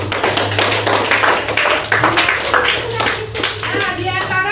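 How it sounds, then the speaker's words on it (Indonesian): Children in a classroom clap their hands together in a brisk, irregular burst that runs throughout, with a few young voices heard among the claps. "sudah tepuk tangan dulu"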